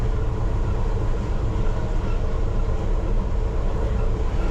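A London Underground Piccadilly Line train runs between Rayners Lane and Cockfosters, a loud, continuous rolling rumble with dense low-end roar and no let-up.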